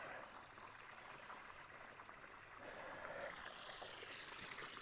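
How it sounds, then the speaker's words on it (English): Water rushes steadily and heavily from an open irrigation valve feeding field channels, a continuous loud hiss-and-gush that stays even throughout with no voices. "the water is running very heavy"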